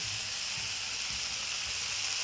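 Spice paste with ground mustard seed sizzles steadily while being sautéed in a pan, a continuous bright hiss with faint low clatter beneath, cooking for a spring-onion and puti fish dish.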